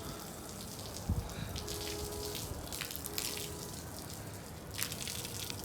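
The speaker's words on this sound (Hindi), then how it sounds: "इसके ऊपर खूब पानी डालना पड़ेगा मुझे" Water is poured and splashed over a freshly cast concrete roof slab, making a steady close hiss with a few brief splashy bursts and no voices.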